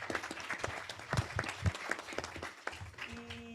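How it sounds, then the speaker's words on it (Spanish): An audience at a lecture series on public security and medical-criminal liability in Mexico gives a round of applause, fairly sparse, distinct claps at moderate distance and fairly quiet, tapering off, with a faint tone near the end. "La recibimos con un fuerte aplauso"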